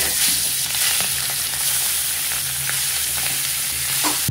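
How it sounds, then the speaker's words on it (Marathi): Halwa fish (pomfret) frying in hot oil at a Mumbai wholesale fish market stall, a steady close sizzle and crackle running throughout with occasional sharper pops and faint background clatter. "हलवा हे फ्राय होता आपल्याकडे"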